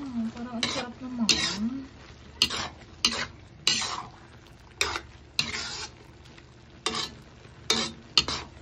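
Pancit canton noodles fry in a pan, with a soft sizzle under repeated sharp scrapes and clinks of a utensil stirring against the pan. A voice speaks briefly at the start.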